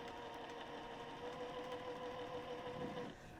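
A sewing machine stitches fabric with pins left in, a steady, close mechanical whir with a rapid rhythmic needle beat that runs without a break and eases slightly near the end.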